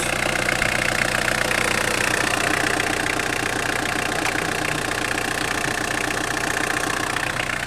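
The 1.9 turbo diesel engine of a 1993 Citroën ZX idles steadily up close, a continuous low rumble with a knocking, clattery texture that holds even throughout.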